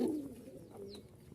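A Giribaz pigeon in Rajshahi gives a short, close, deep coo that swells and fades within a second, followed by quiet background rustle.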